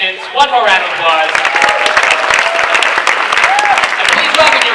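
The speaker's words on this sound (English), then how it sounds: "please give a big round of applause to all your contestants" Loud, sustained crowd applause for contestants at a comedy show at New York Comic Con 2012, with voices and cheering rising over the clapping throughout.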